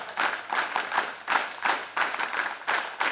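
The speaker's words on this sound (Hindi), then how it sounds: "फिर एक बार बताइए सभी मंच पर विराजमान लोगों के लिए वीर ताली।" An audience at a stage event claps for the people seated on stage, loud and close, in rhythmic surging bursts of about half a second each that repeat steadily throughout.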